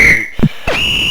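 A referee's whistle in the Amiga game Microprose Soccer blows loud, shrill electronic tones: a held blast, a short gap with a brief blip, then another sustained blast, with no talk.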